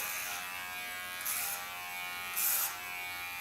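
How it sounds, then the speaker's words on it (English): A Kiona electric hair clipper buzzes steadily close by while cutting hair, a constant quiet drone with two brief brighter surges as the blade bites in. "The blade of my clipper, this is a clipper of Kiona, is laying a bit to the back."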